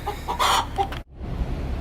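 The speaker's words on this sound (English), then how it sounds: "noisy chicken." A chicken clucks close by in a workshop, a few loud, squawky clucks followed by an abrupt cut and low background noise.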